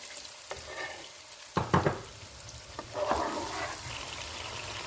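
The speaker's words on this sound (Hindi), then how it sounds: "अब इसमें हम 2-3 चमचे पानी डालेंगे।" Water poured into a tomato and whole-spice masala frying with onions for vegetable pulao, a sudden sizzling burst followed by bubbling and stirring, fairly quiet and close with no talk.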